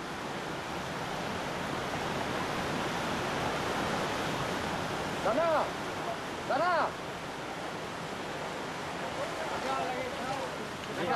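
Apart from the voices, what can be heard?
flooded river rushing as a raging torrent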